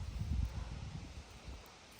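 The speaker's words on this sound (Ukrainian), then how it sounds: "вітер дує, як наче буде дощ" Wind gusts buffeting the microphone in a low rumbling rush, strongest at the start, then easing into a steady outdoor breeze.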